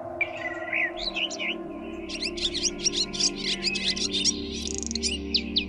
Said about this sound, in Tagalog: kasabay ng tilaok ng manok at huni ng iba't ibang ibon